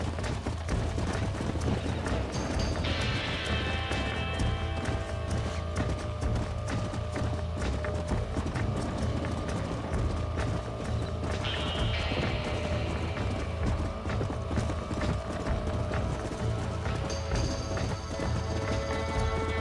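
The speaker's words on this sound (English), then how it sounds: "Olha, o cavalo corre, hein?" A stallion gallops in Red Dead Redemption, its hooves pounding in a fast continuous rhythm under loud game music with rising swells, and voices faint in the background.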